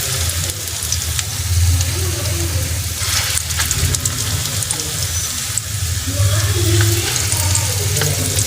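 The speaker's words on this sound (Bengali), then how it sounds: "এবার বাকি যেগুলো আছে আমি সেগুলোও ভেজে নেব একইভাবে।" Egg fritters sizzle steadily in hot oil, a continuous close frying crackle with occasional stirring clatter and no talk.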